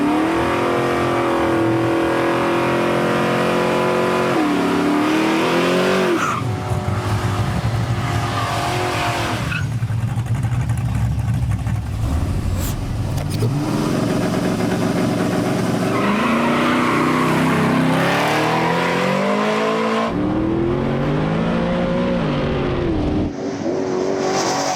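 Two Oldsmobile Cutlass cars, both with 6.0 engines, drag race side by side: loud, sustained engine roar with rising revs through gear changes, tire squeal, and a final pass as the engines fade.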